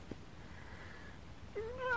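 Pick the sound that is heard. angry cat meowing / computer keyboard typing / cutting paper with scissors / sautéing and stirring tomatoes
angry cat meowing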